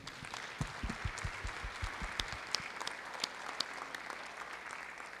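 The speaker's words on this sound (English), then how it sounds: "Members, please give them a round of applause." Members of a state House chamber applaud in a legislative session, steady clapping of a mid-sized group with sharper individual claps standing out, moderately loud throughout.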